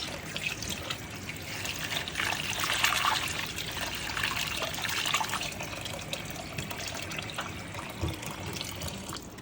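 Steady stream of tap water running and splashing in a sink while raw chicken is rinsed by hand, continuous and fairly quiet, with no voices.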